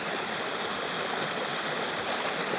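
A stream runs toward a frozen lake in a natural setting, a continuous, fairly close rushing flow with no talk.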